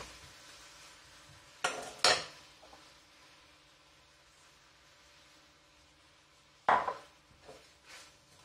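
Apples caramelize in a frying pan while being stirred for an apple tart. Soft scraping runs under a quiet pan sizzle, broken by a few sharp utensil clanks against the pan.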